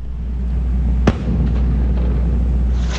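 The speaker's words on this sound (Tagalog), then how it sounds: "Sunod na maririnig ang putok naman ng 105mm howitzer ng Philippine" A single sharp boom from a Philippine Marines 105mm howitzer cracks out once, loud and distant-sounding, standing out over a constant low rumble of wind and engine noise.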